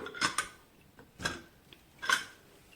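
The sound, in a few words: opening the pressure cooker lid after steam release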